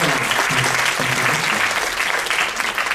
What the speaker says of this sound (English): And round of applause for Mr.